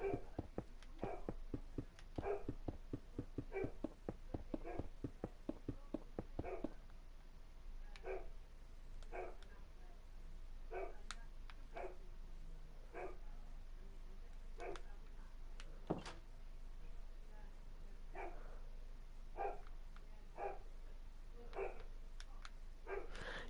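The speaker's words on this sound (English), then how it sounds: "you can hear my dog barking" A pet dog barks repeatedly at a house, quick bursts of loud barks at first, then spaced single barks continuing through the clip, fairly close and clear.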